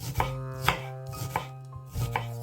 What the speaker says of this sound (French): Émincez finement l'oignon comme ceci,